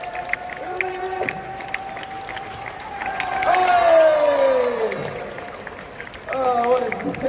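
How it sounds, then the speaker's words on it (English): A crowd at a mall show in Kuwait claps and cheers in a swelling burst that peaks mid-way and fades, with whoops and shouting voices layered over a rising, sliding tone. "Clap. Make some noise, guys."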